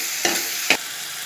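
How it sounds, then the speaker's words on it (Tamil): Onions and tomatoes sauté in a pan for an egg curry, a soft steady sizzle broken by two quick scraping stirs, close and fairly quiet. "இப்போ நம்ம தக்காளி சேர்த்துக்கலாம். நல்லா வதக்கிக்கலாம்."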